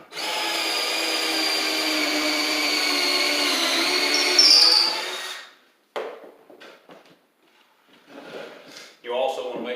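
A drill with a stepped auger bit bores a Kreg pocket hole in cabinet wood: a steady high whine for about five seconds, then it spins down, followed by light clatter and brief talk.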